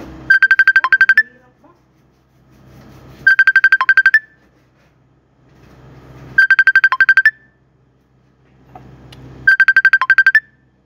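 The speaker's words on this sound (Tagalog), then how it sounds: "may tumatawag" A phone ringtone for an incoming call sounds in four repeated bursts of bright electronic beeps with pauses between them, loud and close, over faint background noise.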